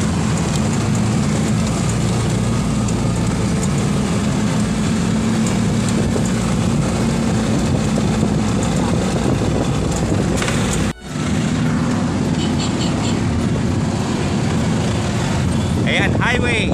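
Steady roar of heavy highway traffic, with many motorcycles among it, heard from a hillside beside the road. A sharp bump cuts in partway through, and speech is heard faintly over the noise.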